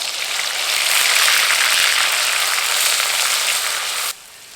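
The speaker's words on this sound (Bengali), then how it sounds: "তেল গরম হয়ে গেছে, দিয়ে দেবো গোটা জিরে" Whole cumin and garlic paste go into hot oil in a wok, giving a loud, bright, hissing sizzle that holds steady for about four seconds before dropping sharply to a quiet background.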